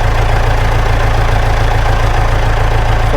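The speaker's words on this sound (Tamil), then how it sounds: "ரைட்டு, வண்டி ஸ்டார்ட் ஆகிடுச்சு." A remote-control ride-on toy Jeep runs steadily just after starting, giving a constant close, even hum with a regular low pulsing and no talk over it.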